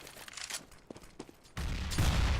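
AK-47 fire in Counter-Strike, a few faint, scattered shot transients early, then a sudden louder burst of gunfire and explosion-like noise that swells toward the end.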